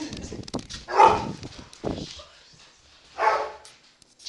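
A dog gives a few short, fairly close barks and yips in a quiet indoor room, with an excited whimpering quality between the louder bursts.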